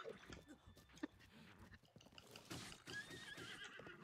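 A horse in the open-world game Zelda: Breath of the Wild gives a quiet, high whinny with rising squeals, among soft hoof clops and rustling, fairly faint overall.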